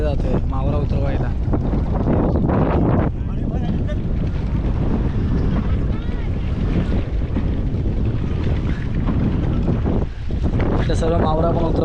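A small fishing boat crosses open water in a creek near an anchored larger boat, its engine and the slap of water buried under heavy, constant wind buffeting the microphone.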